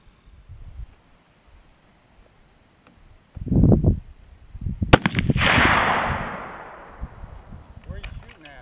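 Pistol shots at an outdoor shooting range, a couple of sharp cracks a second or so apart, the second ringing out with a long, fading echo, with faint talk nearby.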